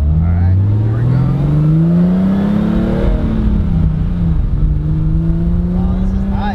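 A 1976 BMW 2002 accelerates on a test drive, its engine note climbing steadily through the gears with rising pitch and a brief shift midway, loud and close from inside the cabin, with talk mixed in.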